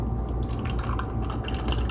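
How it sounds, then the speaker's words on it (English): Creamy fresh-squeezed lemonade poured over ice and lemon slices in a pitcher, a steady close splashing and trickling of liquid with no talk. "And I'm going to pour this beautiful creamy mixture"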